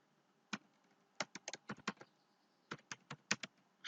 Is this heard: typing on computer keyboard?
yes